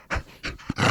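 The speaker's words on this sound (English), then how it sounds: "Look, I brought a dog for you." A dog pants close by in quick, breathy bursts, three or four short huffs in under a second.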